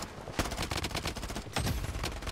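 A P90 submachine gun fired on full auto in the Blood Strike video game, two long, loud, close bursts of rapid shots with a short break between them.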